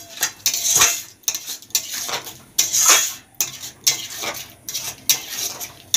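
Spoon scraping and clinking against a pan while whisked sour yogurt is mixed into katla fish masala, in repeated close, loud strokes with short pauses between.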